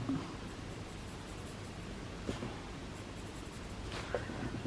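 Colored pencil lightly shading fabric folds on paper, a soft, steady scratchy hiss that is faint and close, with two slightly stronger strokes partway through and no talking.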